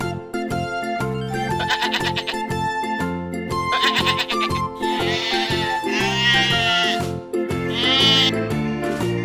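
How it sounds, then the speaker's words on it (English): Toy sheep bleats in a kids' farm animal sound game, several wavering bleats rising loud over continuous bright background music with a steady beat. "Sheep,"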